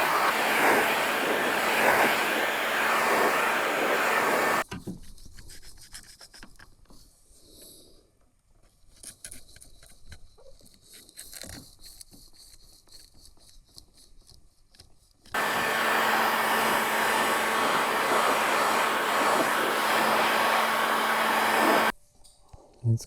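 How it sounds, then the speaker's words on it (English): Steady blowing roar of hot air aimed at the softened adhesive under a Subaru Impreza WRX STI rear spoiler, two long loud blasts, with quieter scraping and handling noises in the gap between them. "I'm just going to gently warm up the goo and hope that it helps release the spoiler."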